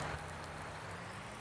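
Rain falling in the Farming Simulator 19 video game, a steady soft hiss of rainfall with faint patter, continuous and fairly quiet with no talk.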